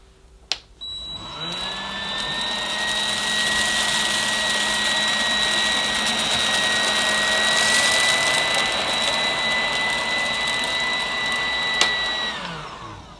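A Goblin 2 in 1 cordless stick vacuum runs on low power with a steady, fairly loud whirring motor hum and whine, starting with a click and stopping after about twelve seconds, with no talk.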